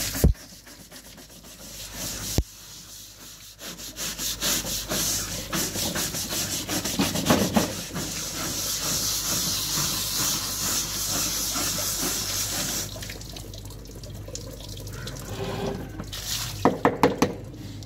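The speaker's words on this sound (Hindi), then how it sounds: "ये टेबल यहाँ ला के रखी है, इसे अच्छे से धो देती हूँ।" A worn plastic table is scrubbed and washed with water, making a steady rubbing and splashing hiss that runs for many seconds with a few sharp knocks, heard close up and without talking.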